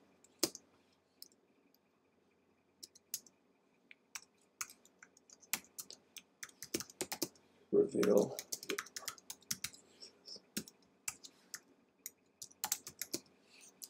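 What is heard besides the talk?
typing on a computer keyboard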